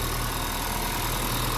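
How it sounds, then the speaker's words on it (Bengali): Engine of a 2015 Honda Vezel Hybrid running, a close, steady hum with an even low pulse throughout, no voices. "এখন আমরা দেখি ইঞ্জিনটা স্মুথনেস কতটুকু আছে।"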